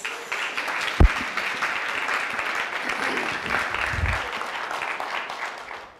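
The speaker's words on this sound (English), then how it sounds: "Can I have another round of applause for Alex?" An audience at a book launch celebration for Global Health Watch 4 claps steadily for a speaker, a sustained moderate round of applause with a sharp thump near the start.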